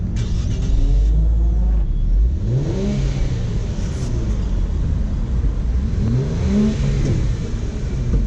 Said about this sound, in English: you have the real exhaust in the back. You have two exhausts, and they sound nice actually.